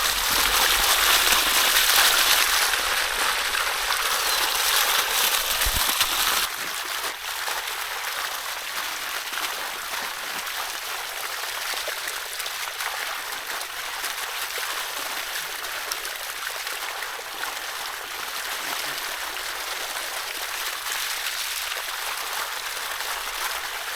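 An artesian well pours water steadily outdoors, a continuous broadband rush like a small stream that runs throughout, louder during the first few seconds and then settling into a constant flow.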